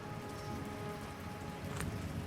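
Steady rain falling in a garden in the visual novel game Chess of Blades, a soft continuous patter on surfaces, faint and even with no other sounds over it.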